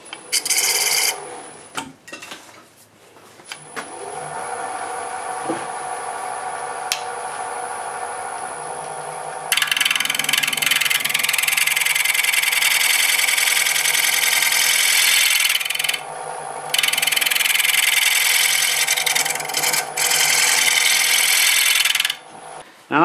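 A negative rake scraper works a curved surface, giving bursts of loud, hissing scraping strokes with brief pauses between them, preceded by quieter rubbing and tool handling.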